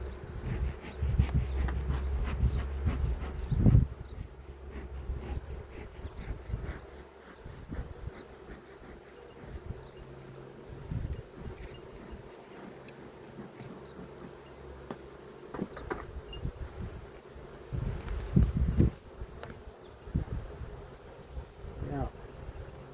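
Honey bees buzz steadily around an opened hive during a first spring inspection, a close, continuous drone with brief bumps and handling noises, while a person talks intermittently.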